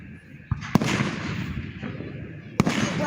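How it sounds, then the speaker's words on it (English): Fireworks bursting outside a church the night before a holiday display, several sharp cracks and booms over continuous crackling and crowd noise, with people talking. "This is like pre-fireworks."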